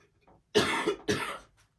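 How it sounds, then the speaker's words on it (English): Two close, sharp coughs in quick succession, fairly loud against a quiet background. "it's a lot of coughing going on"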